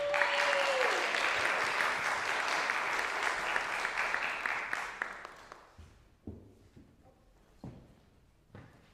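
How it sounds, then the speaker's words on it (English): Applause from a small audience at a Halloween-themed tuba and euphonium studio recital: close, steady clapping with a brief held tone at the start, thinning after about five seconds into a few scattered claps and knocks. "One more round of applause, everybody."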